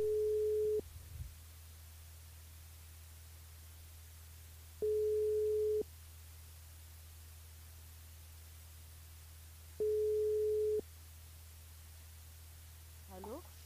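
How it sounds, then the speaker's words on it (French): Telephone ringback tone while a radio show dials a game contestant: three evenly spaced steady beeps about five seconds apart over a constant hum, alone without talk. "on appelle Evelyne dans le jeu Le Nielo"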